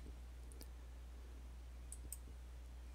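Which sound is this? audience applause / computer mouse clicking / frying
computer mouse clicking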